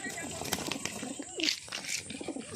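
Frightened pigeons for sale coo and flutter at close range with soft wing flaps and throaty calls, while a person talks over them.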